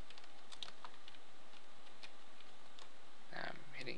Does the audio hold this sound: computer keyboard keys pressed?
yes